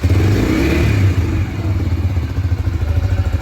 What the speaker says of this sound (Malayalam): വാഹനം ഒന്ന് സ്റ്റാർട്ട് ചെയ്തിട്ട് അതിൻ്റെ എൻജിൻ്റെ നോയ്സ് കൂടെ ഒന്ന് കേട്ട് നോക്കാം